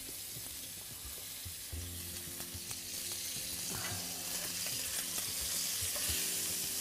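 Kingfish fillet pan-frying skin-side down in hot oil, a steady close sizzle and crackle running throughout and building slightly louder toward the end, with faint clinks of utensils.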